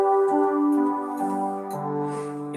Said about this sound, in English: what I've been using was a brass and the 16-foot together